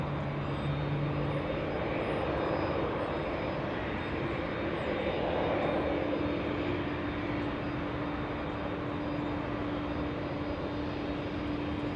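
A jet airliner at Los Angeles International Airport finally begins to move, its engines making a continuous, even rumble with a faint steady whine running underneath and no talking.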